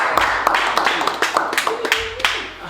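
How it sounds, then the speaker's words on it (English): An audience at a music showcase claps for a performer, a smattering of distinct hand claps from a small nearby group, irregular and fading, with brief voices mixed in. "Give him a round of applause."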